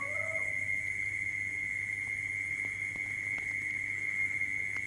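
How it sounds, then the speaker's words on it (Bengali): Crickets chirping at night in the Sundarbans, heard as a continuous, even, high-pitched drone that holds steady in a quiet setting, with a few faint clicks. "চারিদিকে নিস্তব্ধতা, ঝিঝি পোকার ডাক"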